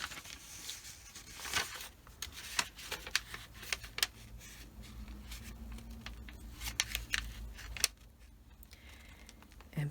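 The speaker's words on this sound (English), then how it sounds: "basically I'm folding it" Sheets of 12 x 12 pattern paper being folded and creased by hand for a handmade journal, with soft rustles, crisp taps and sliding paper sounds, quiet and close, with no talk.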